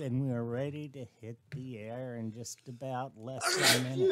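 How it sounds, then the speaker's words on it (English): A voice talks steadily, then a sharp, loud sneeze bursts out near the end, close to the microphone. "I sneezed all over the keypad"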